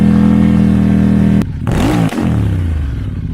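A Ducati Monster 937 with a full Termignoni exhaust, DB killers removed, holds a loud steady idle, then blips the throttle sharply. The engine note rises and falls before settling, close and alone.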